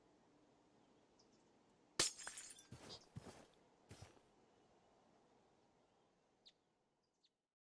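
Glass smashing in a video game, one sharp loud crash followed by several clattering, tinkling shatters over a couple of seconds, then a few faint clinks fading into a quiet background.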